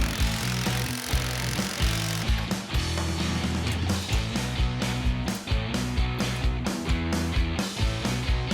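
Metallic ratcheting and tool noise from installing a coilover nut on the front suspension of a 1981 Fox Body Cobra Mustang, a steady run of mechanical clicks and whirring bursts close by, with no talking.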